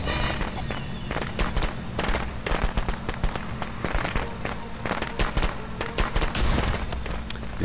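Gunfire in the Friday the 13th video game: dense, rapid bursts of shots and bangs layered over a busy, steady game soundscape, with a voice faintly present.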